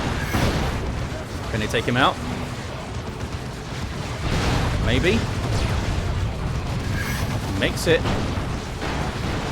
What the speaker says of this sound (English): He's getting knocked over by the Fire Prisms now